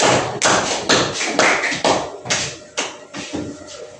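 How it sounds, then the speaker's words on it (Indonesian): A short burst of clapping at an Islamic ethics teacher exam session, heard as loud, close, irregular hand claps over a few seconds. "tepuk tangan"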